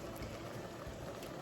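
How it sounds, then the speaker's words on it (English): A pot of water boils hard for water bath canning of hot sauce jars, a dense continuous bubbling hiss and rumble, steady and fairly soft with no voices. "So my water is boiling"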